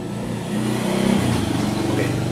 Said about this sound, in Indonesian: sorry ada motor lewat